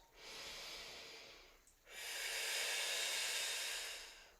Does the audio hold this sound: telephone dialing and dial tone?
no